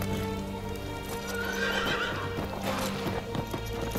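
A horse in the Ghost of Tsushima video game, its hooves clip-clopping in a steady rhythm close by while it neighs and whinnies over an ambient game soundtrack.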